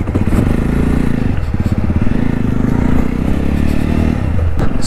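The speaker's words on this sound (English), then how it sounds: "So this is the new Jawa 350 I'm riding." Engine of a 2024 Jawa 350 motorcycle drones loudly and steadily as it is ridden, with a throbbing low rumble, rising slightly in pitch, plus wind and mechanical clatter.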